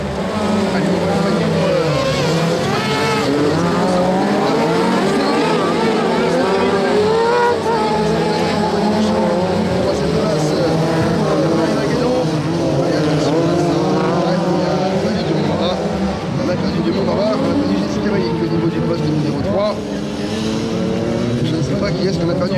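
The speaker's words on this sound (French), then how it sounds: "On entend les moteurs là à pleine puissance." Sprint race cars at Les Cresnays 2025 in an ASA de l'Ouest event roar at full power with loud, sustained, wavering engine howls that rise and fall as they race, while a commentator talks over them throughout.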